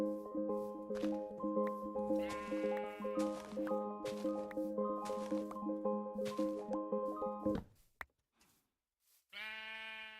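Repeated sheep bleats in Minecraft ring out over a rhythmic, melodic game music loop, then a brief pause before one last bleat.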